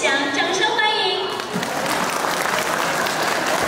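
Audience at a charity fundraising gala breaks into applause to welcome a speaker, a dense, sustained clapping that fills the room, joined at the start by a voice speaking over it.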